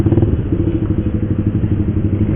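Motorcycle fitted with a loud aftermarket racing exhaust revs hard close by, a dense rapid stuttering roar that stays loud and continuous throughout the short burst with no voices.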